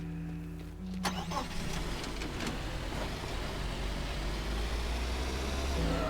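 In the game Teardown, a car engine turns over and catches, then settles into a steady mid-pitched rumble as the vehicle drives off, loud and close with no talking.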